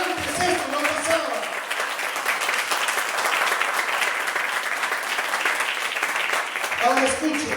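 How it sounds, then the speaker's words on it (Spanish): A church congregation applauds during a Sunday sermon, a dense sustained wash of clapping lasting several seconds, with the preacher's voice heard briefly at the start and end. "Den un aplauso al Señor."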